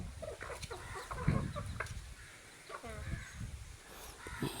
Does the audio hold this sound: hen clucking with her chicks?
yes